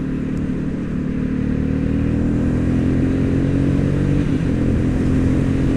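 Motorcycle engine droning steadily with low rumbling revs and slight rises as it accelerates, gear changes made without the clutch blending into the continuous close, loud engine and wind noise.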